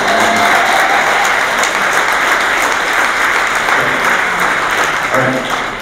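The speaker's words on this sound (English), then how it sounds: "You can applaud if you like." A seated audience applauds steadily and fairly loudly at a conference opening, a dense wash of clapping that holds throughout and tapers slightly at the end.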